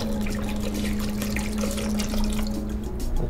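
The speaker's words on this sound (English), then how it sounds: "Put a little hemp milk in there," Hemp milk and rice milk being poured, a steady close liquid trickle and splash that runs continuously for a few seconds, accompanied by a faint steady hum.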